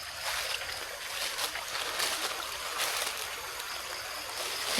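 Steady broadband rush of a river flowing near a garden, continuous and fairly loud with no voices.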